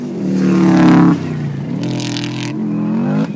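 A rally car roars past at full throttle, its engine note rising in a loud harmonic whine, dropping as it shifts, then climbing again nearby with gravel spray, heard without talk.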